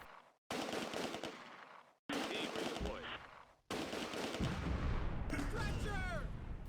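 Mortar blasts and rapid gunfire in the Close Combat: A Bridge Too Far war game, set at Nijmegen Bridge during Operation Market Garden: loud, dense bursts of shooting and heavy impacts in three runs split by short silences, with a whistling shriek near the end.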